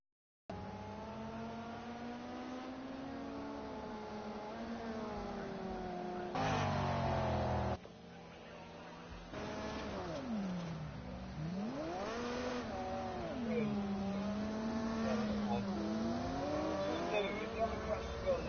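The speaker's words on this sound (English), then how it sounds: "Car's coming round the corner behind you, mate." A car in The Playroom video game revs and whines through shifting engine pitches as it comes round a corner, with sharp bursts of louder revving, mostly alone at moderate volume.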